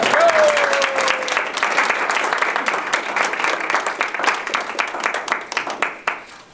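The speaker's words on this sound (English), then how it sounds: "Definitely, let's have a round of applause for all of these great." A Toastmasters contest audience applauds the contestants with loud, dense clapping that holds steady and then thins out toward the end, with no talk over it.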